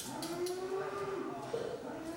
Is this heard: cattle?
yes